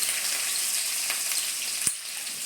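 Garlic fries in hot oil for rasam alongside curry leaves and ginger, a steady close sizzle with a faint crackle and one brief knock near the end, no voices.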